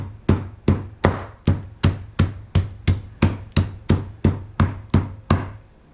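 Pork loin pounded flat on a board with a meat hammer, fourteen evenly spaced hard thuds in a steady rhythm, close and loud.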